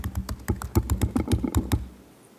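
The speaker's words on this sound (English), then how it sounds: "what if I'm typing fast?" Rapid keystrokes clatter on a computer keyboard, close and crisp, in a fast, uneven burst that trails off near the end.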